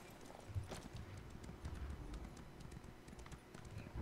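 Horse hooves clip-clop steadily in Elder Scrolls Online, a quick rhythmic trot close by under a soft ambient game backdrop.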